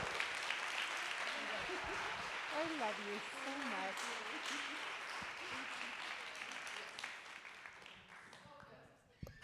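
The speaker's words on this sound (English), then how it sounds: "Can you guys please give Jess a round of applause?" A small crowd claps and cheers for a performer in a fairly faint round of applause, with voices talking over it and someone speaking near the end.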